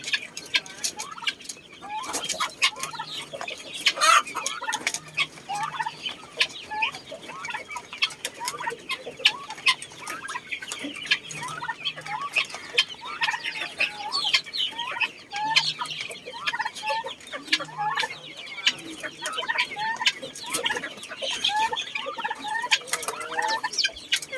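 Backyard chickens cluck continuously while eating feed, a busy flock of overlapping calls at moderate distance, with occasional louder squawks.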